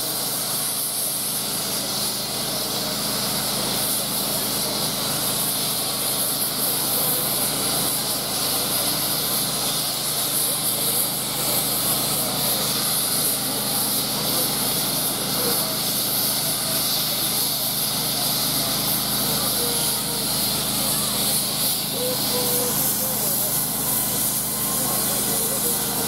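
Steam locomotive LMS 45596 Bahamas, hauling the Kentish Belle at Staplehurst, gives a continuous loud hiss of steam that holds steady for the whole stretch, with a broad roaring wash and no breaks.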